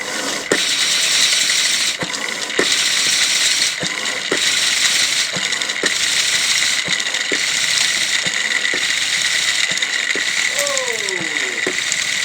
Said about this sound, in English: all I have to do now is pump those bellows and we'll be able to generate